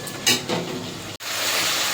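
Spice paste and katla fish with turnip stir-fried in a pan, a steady close sizzle with a lid lifting and brief stirring scrapes near the start.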